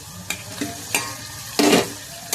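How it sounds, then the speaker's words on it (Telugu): Paneer cubes tossed into a pan of curry base and stirred, a few distinct scraping strokes of a spoon against the pan over a soft sizzle, with one louder, longer scrape near the end, close and without any speech. "ఇప్పుడు దీంట్లోనే పన్నీర్ వేసేద్దామండి."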